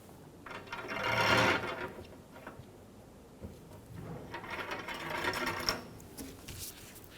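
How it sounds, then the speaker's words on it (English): An 8mm wrench works loose the antenna mast on a 2005-2015 Toyota Tacoma, giving two bursts of close metallic scraping and ratcheting friction separated by a quieter pause, with no talk. "Using an antenna mast tool or an 8mm wrench, we're going to remove the antenna mast."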